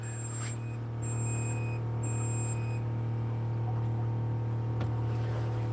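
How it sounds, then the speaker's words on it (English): GPS chart plotter on a boat at Yadua Island, Fiji, beeping for missing GPS data: three short high beeps in an even rhythm over a constant low engine-like hum; no talking. "So that's the beeping sound right now. It's saying that there's no GPS data."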